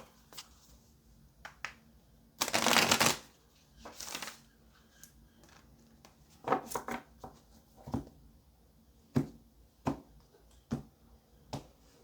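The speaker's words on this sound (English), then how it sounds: "One more shuffle." Tarot cards being shuffled in short riffling bursts and soft slaps, quiet and close, with irregular pauses between handlings.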